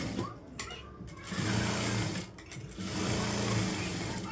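A sewing machine stitches a cross cut blouse in two close, steady runs separated by a brief pause, its rapid rhythmic chatter loud and near.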